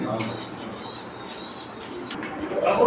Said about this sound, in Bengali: এই যে দেখুন আরেকটা জোড়া অনেক সুন্দর সুন্দর কবুতর